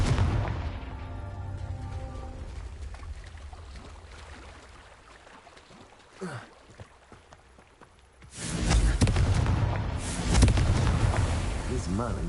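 A Confringo fire spell in Hogwarts Legacy goes off as a loud, close fiery blast with a roaring whoosh and crackle. It plays over busy game sound, and the spell name is spoken over it.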